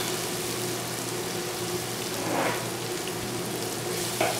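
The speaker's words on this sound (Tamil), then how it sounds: "இப்போ பார்த்திங்கன்னா ஆனியன் ஓரளவுக்கு ஃப்ரை ஆகிட்டே வருது, ஹாஃப் குக் ஆகிடுச்சு" Onions frying in a pan for mutton biryani, a steady crackling sizzle like light rain, close and continuous at a constant level.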